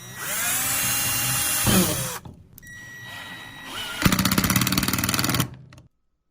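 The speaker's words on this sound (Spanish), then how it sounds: "tomarás un taladro y perforarás un agujero aquí" A power drill boring holes in PVC pipe for a therapy tricycle frame, loud whining bursts that stop, restart briefly, then surge again before cutting off, close by.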